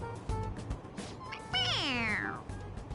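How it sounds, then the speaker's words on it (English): A toy cat in Persona 5 Royal lets out a meow when pressed on the head: a short, clear, rising-then-falling electronic mew, preceded by faint soft clicks and quiet background sounds. "It meows when you press on its head."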